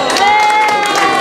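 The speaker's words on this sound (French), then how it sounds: "Levez la main, on l'applaudit." Brief burst of crowd cheering and applause at an aioli-making contest in Saint-Mandrier, a lively, dense mass of voices and clapping held at steady loudness for about a second.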